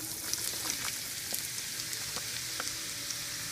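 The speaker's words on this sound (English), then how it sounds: "Fry them up." Onions frying in a hot pan, a soft continuous sizzle with small crackling pops, fairly quiet and heard alone.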